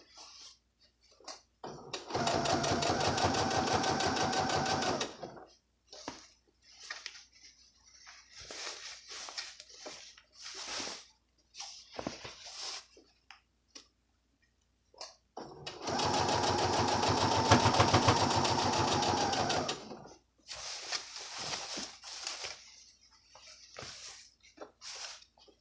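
A sewing machine stitches layers of waistband fabric in two long, steady mechanical runs, close and fairly loud, separated by quieter stretches of a voice talking and small handling sounds.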